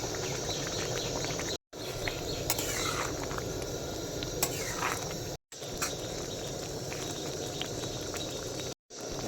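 Mung dal with fried eggplant bubbling in a covered pot, a steady close simmering hiss and crackle running throughout, broken by three brief silent gaps.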